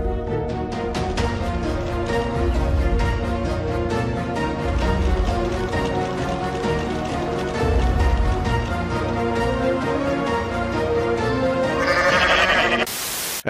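Goat bleats from Goat Simulator, loud repeated nasal cries sounding over a rhythmic music bed for most of the stretch, ending in a sharp burst of noise.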